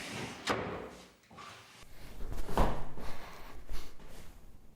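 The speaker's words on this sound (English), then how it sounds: "all the drawers open and close" Wooden drawers of a handmade mudroom bench slide open and shut, giving two sharp knocks and a longer rumbling slide over several seconds, close and fairly loud.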